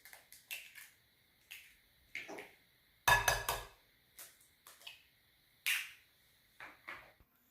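Two eggs cracked and added to a spinach meatball mixture with grated cheese and flour, a series of sharp, close clicks and taps of shell and utensil against a bowl, spaced irregularly in a quiet kitchen.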